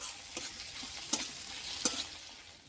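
Onion and tomato fry in a pan for a cabbage and poultry-offcut dish, giving a steady soft sizzle broken by two or three sharp scraping clicks from a stirring spoon, with no talking.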